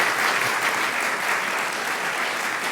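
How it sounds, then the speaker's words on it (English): An indoor audience at a breast cancer forum applauds steadily, a dense, even wash of clapping that holds at a constant level for the whole stretch without any speech. "Would you give them a big round of applause"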